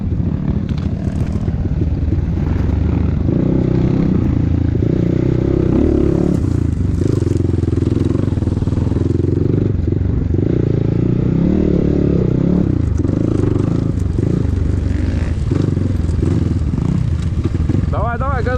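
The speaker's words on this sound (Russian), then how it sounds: "Давай, давай, газуй, газуй." A KEWS K16 PRO motorcycle drones loudly and continuously while riding on ice, its engine note wavering as the throttle shifts, with a voice shouting encouragement over it.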